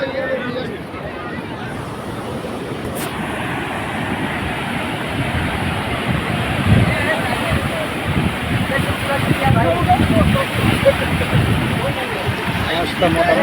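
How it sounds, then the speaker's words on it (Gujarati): Big sea waves break near the Somnath temple shore, a broad, rushing surge that swells louder toward the end, while people talk over it nearby. "મોટા મોજા ઉછળી રહ્યા છે તમે જોઈ શકો છો"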